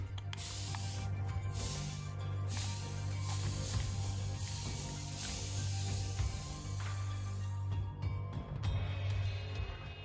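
A spray bottle mists a paint palette during a painting session, giving a steady close hiss that runs through most of the span with a low hum underneath.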